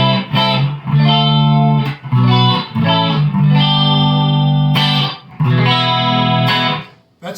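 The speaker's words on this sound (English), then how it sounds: "I love this chorus sound that I'm getting" Electric guitar chords through a Twin Reverb amp ring out with a shimmering, swirling analog chorus effect, several strummed phrases separated by brief pauses, played up close with no talking.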